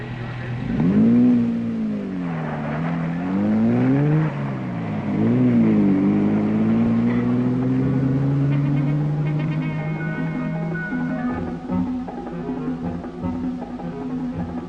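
1960s rally cars arrive at the East African Safari Rally, engines revving loudly and rising and falling in pitch before settling into a sustained nearby drone.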